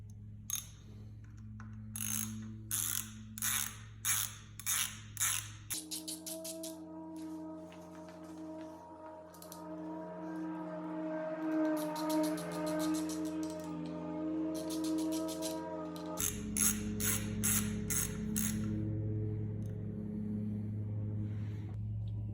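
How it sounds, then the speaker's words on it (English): A ratchet with a T25 Torx bit clicks rapidly in repeated strokes while snugging two screws on a motorcycle handlebar. A sustained mechanical hum fills the middle, and then more ratcheting bursts follow, all close up. "Grab your 2 screws and the T25 Torx bit and snug those back down."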